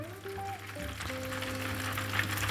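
Butter, soy butter by the name, melts in a hot pan on its way to brown butter, giving a quiet, steady crackling sizzle with soft tonal hums from the stove in the background.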